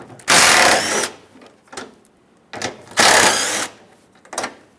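A ratchet works loose the two 10mm fasteners holding a headlight assembly on a 2003-2009 Dodge Ram 2500 HD, giving two long bursts of close, loud clicking with a few short ratchet clicks between them.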